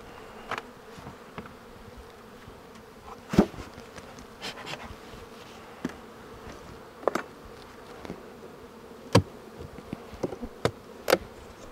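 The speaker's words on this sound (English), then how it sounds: "Looks like we've got some bees in here." Honey bees hum steadily from an opened hive, a dense low drone with occasional sharp clicks and knocks from handling the boxes, no voices.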